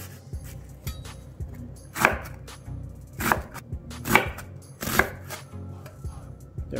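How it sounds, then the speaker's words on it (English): Red onion chopped with a knife on a cutting board, four distinct chopping strikes spaced about a second apart, with lighter taps between them, close and clear, no talking. "We're gonna chop our onions pretty small."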